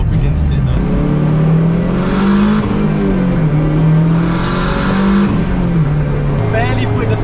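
A car engine, either a 1000-horsepower R32 Skyline or a Honda Civic, revs in rising and falling sweeps, loud and close, with voices talking over it.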